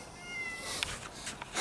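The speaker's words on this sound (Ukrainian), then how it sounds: "Це моя кішка Масяня" A domestic cat gives a short, quiet meow in a workshop where a VW T3 van body is being repaired, followed by a few faint rustles.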